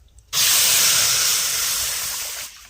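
Potato tikki mixture with arrowroot and amchur hits a hot kadhai, bursting into a loud, sudden sizzling hiss that holds steady for about two seconds, then cuts off sharply, close up with no voices.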